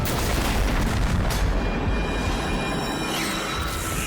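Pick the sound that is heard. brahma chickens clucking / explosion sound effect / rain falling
explosion sound effect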